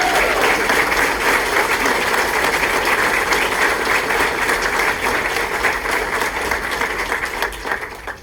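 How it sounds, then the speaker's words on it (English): A large audience at a military change of command ceremony gives sustained applause, loud and steady for several seconds before starting to taper off near the end. "I think we should give Presley another round of applause for that beautiful"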